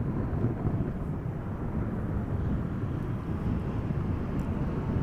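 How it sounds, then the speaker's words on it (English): A Delta Airlines Airbus A330-300 airliner arriving at Amsterdam Schiphol Airport in gusty crosswinds gives a steady, broad low roar throughout, mixed with wind rumble on the microphone. "Delta Airlines Flight 74, Airbus A330-300 today, arriving from Atlanta, Georgia"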